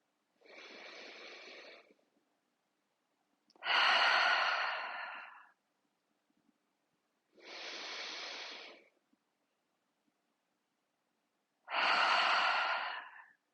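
Slow, deep yoga breaths, four long airy hisses alternating between quieter inhales and louder exhales, close and steady with silent pauses between them.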